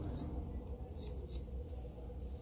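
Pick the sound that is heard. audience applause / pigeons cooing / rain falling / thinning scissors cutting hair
thinning scissors cutting hair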